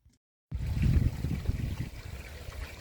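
Water trickles and babbles steadily at an outdoor fish pond, close and moderately loud after a short silence at the start, with no one speaking.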